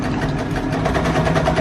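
A small sewing machine aboard a sailing boat runs steadily at close range, an even mechanical whirring hum with rapid rhythmic ticking throughout.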